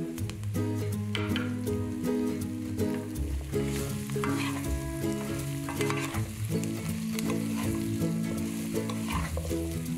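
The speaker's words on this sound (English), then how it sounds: "At this point, we'll also add the chopped herbs and the thyme." Chopped herbs and thyme frying in a curry pan for beef curry, a steady loud sizzle with stirring scrapes and clinks running throughout, no talking.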